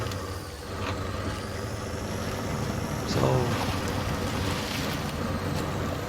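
The Cateye 6x6 truck in the game SnowRunner driving into deep water: a steady engine drone with rushing, sloshing water. A voice speaks briefly over it.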